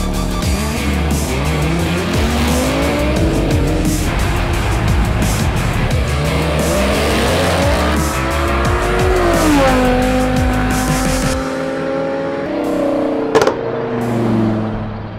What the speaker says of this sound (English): minivan against a Audi R8 that's been supercharged